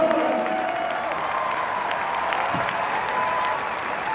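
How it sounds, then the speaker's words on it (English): An audience at a book launch event gives a loud, sustained round of applause for the Wizcraft directors, dense clapping filling the hall with a little crowd noise and faint cheering mixed in. "A huge round of applause."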